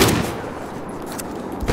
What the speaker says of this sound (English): I was shooting at him, alright?